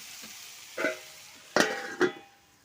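Food frying in a pan at home, a steady low sizzle underneath with three brief louder bursts of stirring and clinking against the pan.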